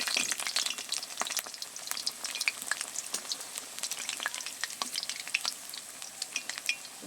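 Dal bora, lentil fritters, fry in oil with a busy, crackling sizzle, close and lively, with sharp pops scattered throughout and no talking.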